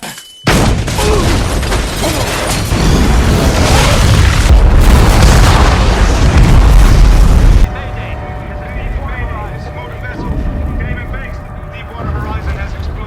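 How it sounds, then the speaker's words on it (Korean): A massive, roaring explosion rumbles loudly for several seconds, deep and sustained, then cuts to a quieter scene with lingering noise and faint tones. "시설 내의 모든 조명이 밝아지더니 엄청난 폭발과 함께 시설 전체가 마비됩니다"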